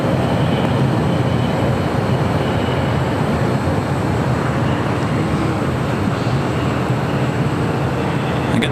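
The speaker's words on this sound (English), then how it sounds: "that was flight 601 coming in from Amsterdam, a 787-10 Dreamliner, arriving on the north side at 24 right" A Boeing 787-10 Dreamliner arriving from Amsterdam lands on runway 24 right at LAX, its steady broadband jet roar loud and close, holding an even level throughout with no voices.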